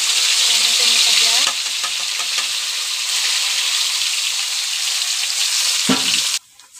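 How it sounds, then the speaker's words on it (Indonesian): Blended spice paste for a soup base sizzles loudly as it sautés in hot oil, a steady crackling fry with stirring scrapes, ending abruptly. "Ini buat menumis bumbu kuah ya."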